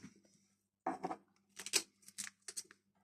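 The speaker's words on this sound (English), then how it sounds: "I've cut them off with a pair of scissors." Quiet, close snips of scissors cutting off chicken wing tips, several crisp clicks spaced irregularly through otherwise near silence.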